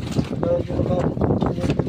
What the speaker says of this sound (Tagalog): Lumalakas na naman ang hangin.